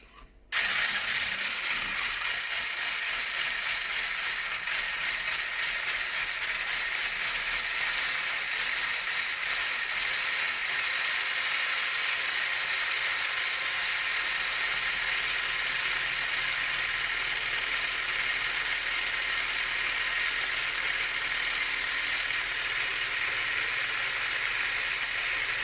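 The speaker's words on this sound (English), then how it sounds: "always start at a low setting when whipping your cream" An electric mixer whips cream with a steady, high whirring buzz that starts abruptly and holds constant at close range, with no talking.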